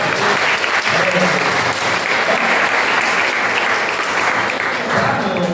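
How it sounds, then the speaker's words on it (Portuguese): A church congregation applauds at an evening worship service, sustained and even throughout with a dense wash of clapping, voices faintly mixed in. "Aplauda o Senhor, por favor."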